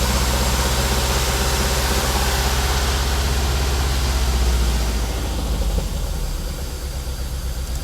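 Toyota 3S-GE engine with individual throttle bodies in an Altezza idling on first start: a loud, close, broadband engine drone that holds steady, then eases slightly toward the end, with no talking.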